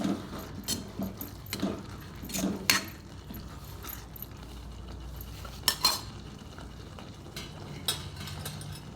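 A spoon scrapes and clinks against a pan while stirring tomato chutney mixed with crushed peanuts, irregular knocks and scrapes at close range over a faint cooking hiss, without speech.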